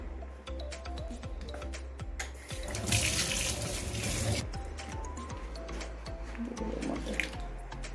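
Cut raw mango being washed under a running kitchen tap, steady close water flow and splashing with a louder gush midway, plus clinks of a bowl.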